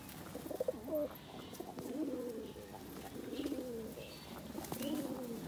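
Kaldom pigeons coo in a recurring series of soft, throaty calls, fairly close and moderately quiet, with faint wing flutters and background noise, no speech.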